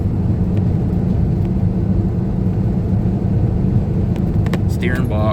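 A 1985 Chevrolet K10 square-body pickup drives along with a steady low engine and road rumble throughout, joined by faint higher whines near the end.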